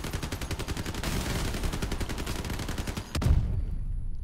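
Rapid gunfire in a vehicle combat video game, a dense run of repeated shots with a brief break near the end before a loud low impact and further firing, no talk.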